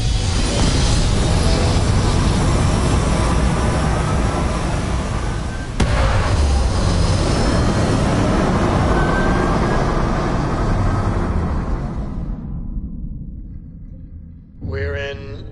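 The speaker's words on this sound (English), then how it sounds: "All thrusters firing." Spaceship thrusters fire in the video game Starfield as a loud, sustained roaring rumble. It holds steady for about twelve seconds, then fades away, followed by a short, faint burst at the end.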